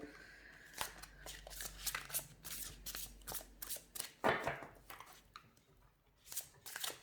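Oracle cards are shuffled by hand outdoors for a reading, giving quiet, close riffling and flicking bursts in an uneven rhythm, with faint background sound between.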